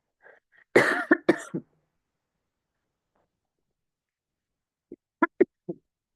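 A burst of several sharp coughs, then a quiet pause followed by a second, softer run of short coughs.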